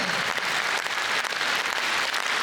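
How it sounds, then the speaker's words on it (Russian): Audience applauding after a song by a dance ensemble at a Kazakhstan youth ensemble's 50th anniversary concert; dense, steady clapping from a large crowd, loud and continuous throughout. "Ваши аплодисменты!"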